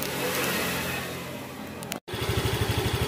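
A Honda Vario 125 scooter engine revs steadily, then after a brief cut settles into a smooth, rhythmic idle with a regular low pulsing beat, close and fairly loud.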